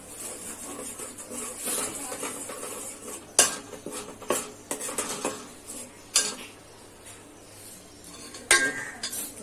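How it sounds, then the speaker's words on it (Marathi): Masala is stirred into oil in a metal pot while cooking Konkani chicken, with a steady scraping bed and several sharp clinks of a utensil striking the pot, close by. "मसाला आता तेला चांगला मिक्स करायचा"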